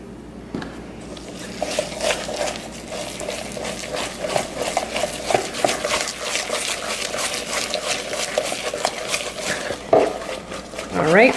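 Ingredients being whisked in a bowl for protein Christmas cookies with coconut sugar, heard as a repeated close scraping, wet stirring rhythm with speech intermittently over it.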